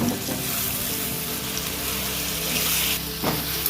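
Ground mustard spice paste fries in a pan while cooking a bean chorchori vegetable dish. A steady, close, loud sizzle fills the whole moment, with a brief stirring scrape near the end.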